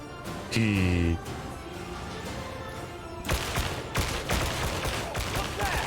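Gunfire in the Warhammer 40,000: Darktide video game, with a tonal horn-like blare early on, then a dense burst of rapid shots and impacts that turns loud and busy in the second half amid chaotic combat noise.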